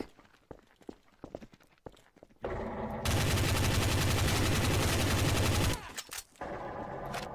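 Rapid gunfire in Garry's Mod Trouble in Terrorist Town, a loud sustained burst of repeated shots lasting a few seconds, with scattered game noises before and after.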